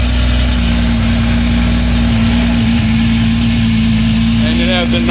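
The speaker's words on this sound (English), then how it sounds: "And it has a nice idle and burble." A 1985 Porsche Safari idles after a cold start, giving a loud, steady low engine drone with a constant hum and rumbling burble, close up, with a faint rattle near the end.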